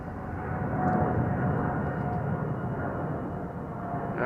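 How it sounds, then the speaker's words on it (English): An Airbus A340 jet airliner rolls toward the listener at a busy airport, giving a steady, broad engine roar that holds constant throughout. "The A340 is on the move,"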